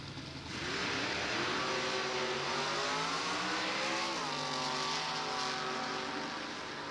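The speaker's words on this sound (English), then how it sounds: "Here's a V8 Vega on the Winston side, matching up with an early model Camaro." Two drag cars, a V8 Vega and a 1968 Chevrolet Camaro, launch side by side at a drag strip, engines roaring loud and sustained with rising revs through the run, no voices heard.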